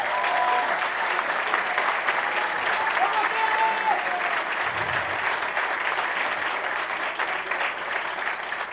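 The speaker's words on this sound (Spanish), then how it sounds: "Alejandra Barrales, para quien pida un fuerte aplauso, por favor" A crowd at a political candidate registration event in Mexico City applauds loudly and continuously, a thick, steady roar of clapping with faint voices mixed in.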